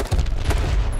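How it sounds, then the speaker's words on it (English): Rapid gunfire from the online shooter game H1Z1 crackles in a dense one-second burst, loud and continuous, with no voices over it. "This guy's shooting at us!"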